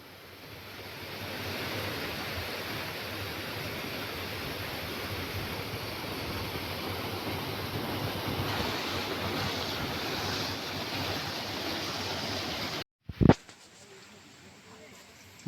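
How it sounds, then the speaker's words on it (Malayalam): A waterfall roars as a steady, broad wash of rushing water heard from a viewpoint by a new road, constant for most of the stretch before a sudden break and a few close knocks. "ഇവിടെ നിന്നുകൊണ്ട് വെള്ളച്ചാട്ടം കാണാൻ നല്ല ഭംഗിയാണ് കേട്ടോ"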